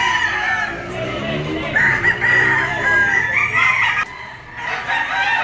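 Roosters crowing, gamecocks kept for sale, with repeated loud crows and some clucking close by, overlapping one another in a farmyard setting.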